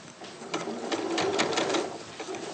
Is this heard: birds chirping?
no